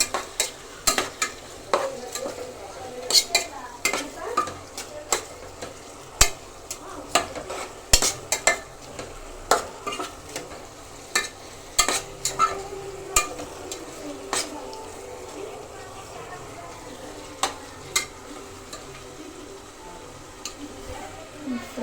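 Rice being fried and stirred in a pot for chicken biryani, with frequent sharp scraping clicks of a spoon over a soft, low sizzle, and faint background voices in places.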